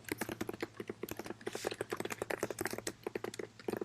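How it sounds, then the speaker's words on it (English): Fast typing on a computer keyboard, a rapid dense stream of close, crisp key clicks with uneven rhythm over a faint low hum, with no talk. "Damn, typing hella fast."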